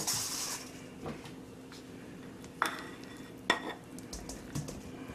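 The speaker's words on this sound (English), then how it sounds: "I'm going to put it in my big mixing bowl before I blend it into a nice, smooth, pasty type of concoction." Soft, mushy butter goes into a big mixing bowl for Christmas cookies, giving quiet scrapes and a few sharp clinks of a utensil against the bowl over a faint background hum.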